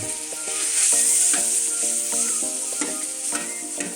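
Cold cooked rice and egg yolk stir-fried in a hot pan for egg fried rice: a loud, steady sizzle with spatula scrapes and tosses, over a faint tonal background and without speech.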